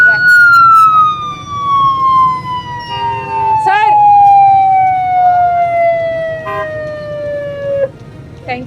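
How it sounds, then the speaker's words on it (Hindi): A loud traffic police siren wails close by in a long, steadily falling tone on a jammed street in Lahore, with a voice speaking briefly partway through. "ये एकदम से सायरन बजा दिया क्योंकि पीछे ट्रैफिक जैम हुई भी थी यहाँ पर।"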